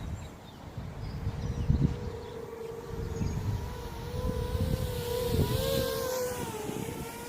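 Electric motors of an XK X450 Aviator VTOL RC plane whine steadily in flight outdoors, the buzzing tone rising and falling in pitch as the throttle shifts, with low wind rumble underneath.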